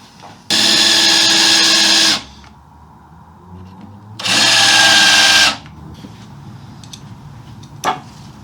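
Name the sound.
power drill drilling holes in cedar slab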